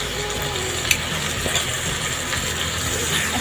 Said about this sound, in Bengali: এখন আমি মাংসটা পেঁয়াজ রসুনের সাথে কিছুক্ষণ ভেজে নিব।